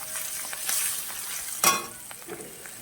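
Ground cumin hits hot oil in a pan for potato dum, giving a close hissing sizzle with a sudden brighter burst partway through and soft stirring scrapes, short and without voices.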